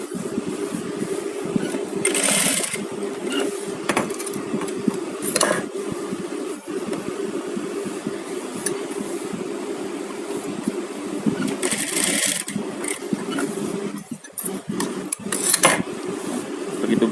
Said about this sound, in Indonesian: kita jahit ini seperti ini